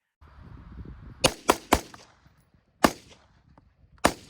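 Five sharp rifle shots from a rifle fitted with an ACOG and a forward-mounted red dot, loud and close, spaced irregularly over a few seconds with quiet gaps between them.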